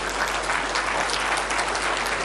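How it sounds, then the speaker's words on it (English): Loud, sustained applause from a large crowd welcoming the President of Kenya at a formal state occasion, a dense unbroken wash of many hands clapping near and far. "Let us continue clapping,"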